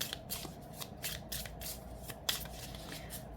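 Tarot cards are shuffled close up in quick, crisp riffling bursts, a steady papery flutter repeating throughout at low volume.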